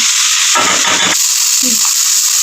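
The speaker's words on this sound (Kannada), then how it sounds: "ಈಗ ಟೊಮೊಟೊ ಹಾಕೊಂಡ್ರೆ ಅದನ್ನು ಫ್ರೈ ಹಾಕೊಂಡು" Tomatoes frying in a hot pan for a simple vegetable palya, a loud close sizzle with two short bursts of stirring or scraping over a constant hiss.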